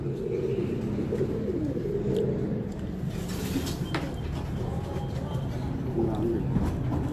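Pigeons coo softly at a pigeon-keeping gathering in Kasur, a low steady murmur under constant nearby men's chatter and background noise.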